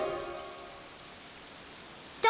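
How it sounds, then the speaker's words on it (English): Rain falls in an animated cartoon as a steady soft hiss of drops, with a brief tonal sound fading at the start and another sound cutting in at the end. "Oh, rain, rain, rain."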